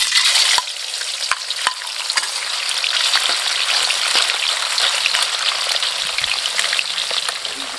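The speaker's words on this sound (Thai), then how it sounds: "ไฟแรงนะครับนี่น้ำมันร้อนแล้วก็ไป่ปลาทอดได้เลย" Snakehead fish frying in hot oil over high heat, a loud, dense, steady crackling sizzle that fills the whole stretch, with a few sharp pops and spatters cutting through near the start.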